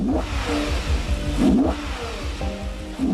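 A Lexus LFA's naturally aspirated V10 revs hard and close, its pitch sweeping up and down through several quick rises over about three seconds.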